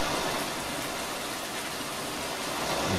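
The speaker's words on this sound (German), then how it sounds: "Es regnet und regnet und regnet." Rain pours down in the farming game Farming Simulator 19, a steady, even hiss of falling water without a break and no voices.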